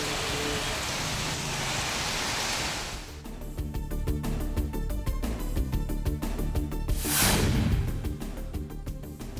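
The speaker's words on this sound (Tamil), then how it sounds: "சென்னை மற்றும் புறநகர் பகுதிகளில் மாலை நேரத்தில் பெய்த மழை." Evening rain falls in Chennai as a steady, dense hiss that fills the scene, shifting into a more textured patter of drops hitting surfaces, with a brief whooshing swell partway through.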